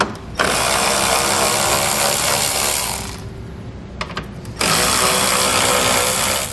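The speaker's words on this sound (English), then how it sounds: "We're going to have 4 10mm head bolts across the top of our grill that we need to remove" A power driver removes 10mm head bolts across the top of a 2016 Ram 1500 grille, giving two sustained, loud mechanical whirring runs separated by a brief quieter pause with a few clicks.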